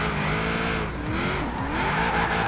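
Car drifting on cobblestones in Forza Horizon 4, tires spinning and skidding in a loud continuous screech over a revving engine, close and sustained.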